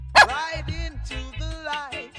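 A dog barks several times in quick succession on a street in Belmont Shore, sharp and close, with short yips between barks and no speech over it.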